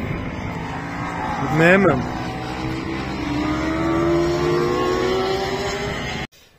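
A car on its first lap of a race circuit, engine note climbing and shifting steadily as it pulls away, loud and close, with a voice speaking briefly over it before an abrupt cut.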